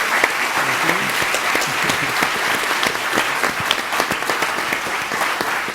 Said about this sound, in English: Will you please give this great panel a round of applause?